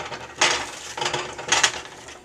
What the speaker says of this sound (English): I continue to scrape the edges of the pan in an effort to make the entire runny mixture cross over the middle of the pan